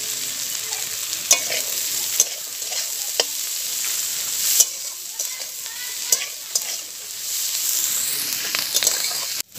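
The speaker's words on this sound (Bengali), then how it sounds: "এবার এর মধ্যে দিয়ে দিলাম পেঁয়াজ" Chopped onion sizzles as it is stirred into half-fried yardlong beans and capsicum for egg bhuna rice, a steady close frying hiss broken by repeated scraping clicks of the spatula against the pan.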